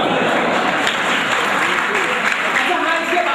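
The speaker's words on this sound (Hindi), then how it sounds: "जब तक आपकी तालियां बजती रहेंगी तब तक कुछ सुनाने का प्रयास" An audience at a Hindi poetry recital applauds steadily for several seconds in a dense, even patter, with a voice speaking over the clapping.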